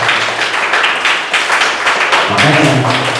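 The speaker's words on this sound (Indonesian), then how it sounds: "Luar biasa, tepuk tangan bagi semua ya." Classroom group clapping hands together, loud close applause lasting throughout with a rough, uneven rhythm and a voice briefly heard underneath near the end.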